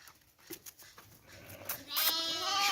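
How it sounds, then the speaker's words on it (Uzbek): Sheep and lambs bleating at close range, several short calls in quick succession with a louder, sustained bleat near the end, set against faint farmyard background noise. "Qo'ylar o'ta zo'r narsalar mana."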